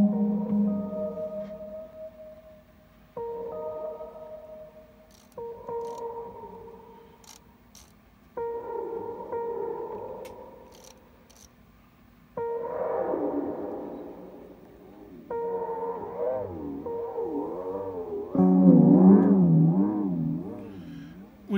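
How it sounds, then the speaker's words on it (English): Flanged feedback tones from an Empress ZOIA guitar effects pedal's modulation section, sustained chord swells repeating in sections, growing into swirling, sweeping warbles and getting louder toward the end. "There's a feedback amount which allows you to create sort of flanged"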